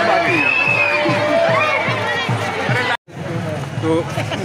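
A dense crowd bustles at a busy fair, with constant overlapping voices, shouting and chatter up close, rhythmic background thumping, and a brief cut to silence before the noise resumes.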